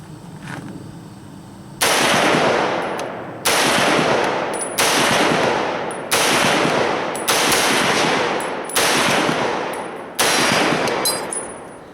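Semi-automatic M1 Garand rifle chambered in .30-06 fires seven loud, sharp shots alone at a steady pace of roughly one every one to two seconds, each blast ringing out with a long decaying tail outdoors.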